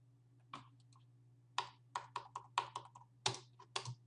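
Keys click on a computer keyboard while a retro computer setup is configured, with a single press, a pause, then a quick burst of close typing over a low steady electrical hum.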